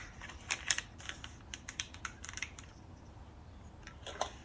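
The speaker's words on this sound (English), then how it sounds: "the first page is just crinkling it up" A paper page crinkles up after being heated, giving a quiet, close run of crisp crackles and snaps that fade out, then return briefly.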